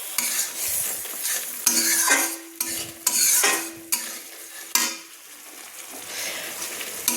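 A paste of mustard, poppy seed and green chilli frying in a pan, crackling sizzle broken by repeated spatula scrapes and knocks against the pan, close and alone.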